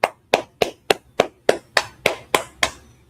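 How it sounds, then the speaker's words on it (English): A group claps in unison about ten times, crisp, evenly spaced beats roughly three per second, close and clear with quiet between each clap, at a gathering of an Israelite school in Harlem, New York. "Clap it up."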